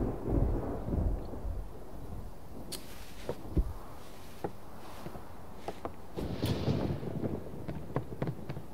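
A thunderstorm in the video game Last Day of June: deep rolling thunder rumbles and crackles over a steady wash of rain and wind, with no voices.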